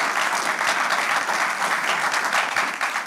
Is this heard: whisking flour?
no